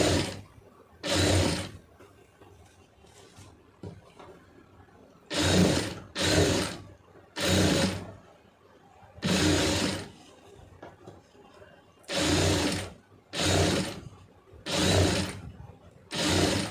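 A sewing machine stitches piping onto fabric in several short, loud bursts of whirring, separated by brief pauses, with no voices.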